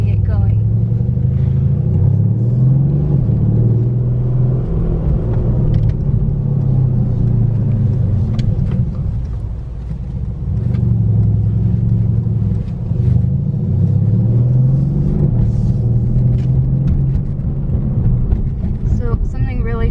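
A 2017 Mercedes-AMG C63 S coupe in Sport Plus mode drives through city streets, its engine giving a deep, loud rumble that rises and falls in pitch throughout, with a voice talking over it.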